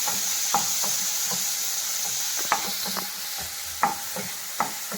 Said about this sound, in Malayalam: ഈ തക്കാളിയും കൂടി കൂടെ ഒന്ന് വാട്ടുക.